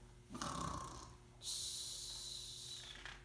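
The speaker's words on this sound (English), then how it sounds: "Snoring again." A snoring sound: a short snort-like breath followed by a long, loud hissing exhale, close and steady.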